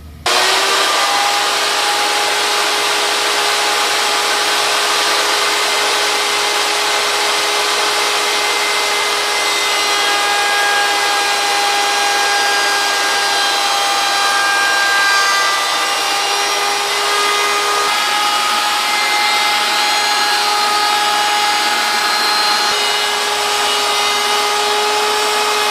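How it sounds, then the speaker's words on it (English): A table router fitted with a 45-degree chamfer bit cuts along the edge of a wooden board for a picture frame, giving a loud, steady, high whine that runs unbroken throughout. "I am going to use a 45-degree angle bit, and what I'm going to do is make a chamfered edge"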